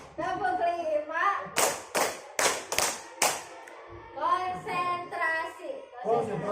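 A class of children claps a counted rhythm in unison, five sharp, loud claps in a quick steady run, followed by children chanting again.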